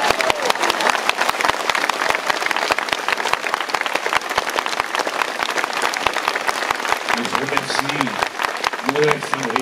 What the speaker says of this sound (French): Ceux qui ont les mains libres peuvent m'applaudir